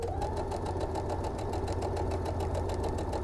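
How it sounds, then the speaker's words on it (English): A sewing machine runs steadily, top stitching the hem of an upcycled sweatshirt, giving a continuous close, even motor whir with a fast rhythmic needle pulse throughout. "I'm going to top stitch it down in place so it doesn't fall down while I'm wearing it"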